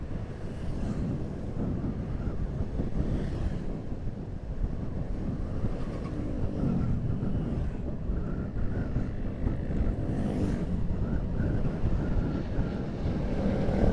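Cebu Pacific airplane descending overhead, a broad low rumbling roar that swells and fades over the steady noise of a roadside, with wind buffeting the microphone.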